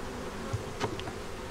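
Honeybees at an open hive hum and buzz close by, a faint steady drone with a couple of individual insects passing near.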